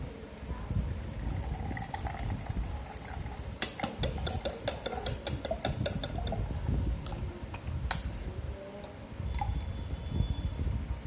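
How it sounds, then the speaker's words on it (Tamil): Beetroot, coconut and curry leaf juice being strained, a steady wet trickle and liquid pouring with scattered drips and small clinks, close and continuous, no speech. "இப்போ வடிகட்ட போகிறோம்."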